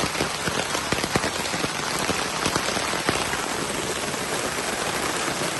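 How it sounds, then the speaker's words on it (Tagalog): Heavy rain pours at night on a campsite, a dense, loud, steady roar of drops striking surfaces, with scattered sharper close drips and no voices. "nagka-camping kami ngayon at napakalakas ng ulan"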